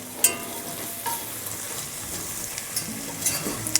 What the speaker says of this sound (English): I'm going to grab my whisk, stir those together, get the flour all over there,